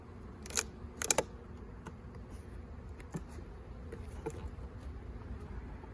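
Honey bees buzzing around an open hive during a fall inspection: a faint, steady hum with a few sharp knocks and clicks near the start.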